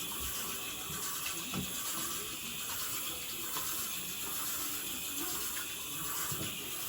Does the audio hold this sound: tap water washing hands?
yes